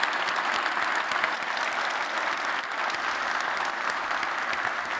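Sustained audience applause at a GitHub Satellite 2019 keynote, a dense, steady wash of many hands clapping at even loudness throughout, with no voices over it.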